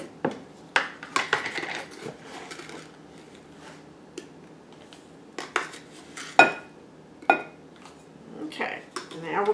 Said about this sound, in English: now we're going to stir that up